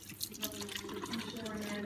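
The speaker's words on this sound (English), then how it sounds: "Wet hands thoroughly under warm running water." Warm tap water runs steadily into a sink while hands are being washed, with a soft splashing hiss under a voice talking.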